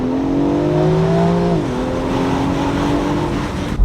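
A BMW X4 M Competition engine roars loud and close, holding a steady droning pitch and then dropping sharply to a lower tone that carries on steadily, with no voices over it.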